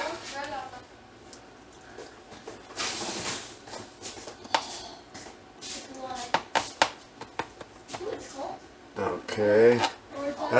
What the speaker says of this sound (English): Gotta be careful because it's an aluminum pan and you don't want to cut through the bottom of the pan